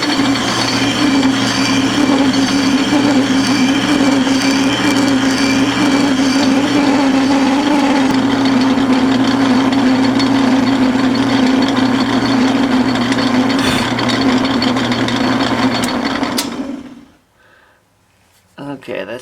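A lathe runs in back gears while machining a steam engine piston, giving a steady close mechanical drone with a low hum and faint higher whine, before winding down and falling quiet near the end.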